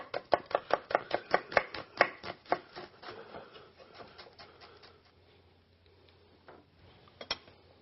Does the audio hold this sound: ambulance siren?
no